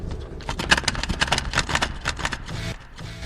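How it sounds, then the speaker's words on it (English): Rapid irregular clattering and mechanical clicks from a cassette tape mechanism ejecting, a busy rattling burst that settles slightly toward the end, fairly close and alone without talk. "Does your cassette mechanism make a terrible sound like this when you open it?"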